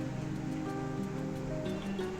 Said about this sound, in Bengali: ব্লেন্ডার মেশিনে ব্লেন্ড করে নিচ্ছি।